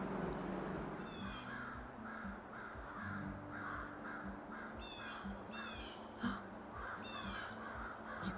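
Crows cawing in a forest at Shawme Crowell State Forest, repeated harsh caws in short bursts from several birds, moderately distant over a steady low background hum, with no talking.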